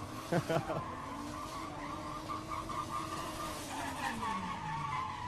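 A drift car at the Red Bull Car Park Drift event in Muscat, skidding through a slalom with long, rising and falling tire squeal over a revving engine, loud and close as it passes, with a voice commentating over it.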